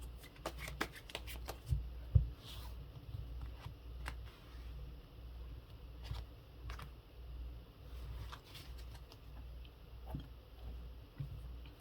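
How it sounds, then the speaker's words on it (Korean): Tarot cards being shuffled by hand, with a soft, continuous riffle and slide of card stock and a few sharper snaps near the start, close and fairly quiet, with no talk over it. "속마음 카드 좀 볼게요"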